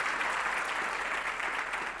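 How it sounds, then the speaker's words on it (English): A crowd at a county State of the County address breaks into applause. The clapping is steady, dense and even throughout, with no voices above it. "We can clap for that."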